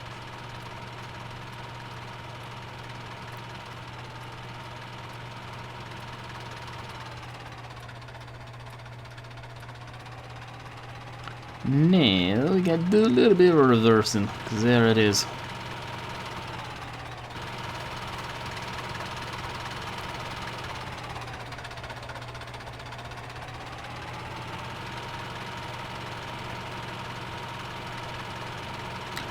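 Old-school tractor engine idling steadily throughout in the Farming Simulator 17 video game, a low constant hum with a brief louder burst of tonal sounds midway.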